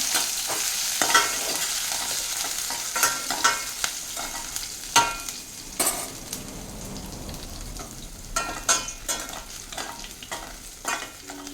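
Dry red chillies and chopped onion and tomato for a dal tadka are stirred in a hot pan, a steady sizzle under repeated spoon scrapes and clinks, close and fairly loud throughout.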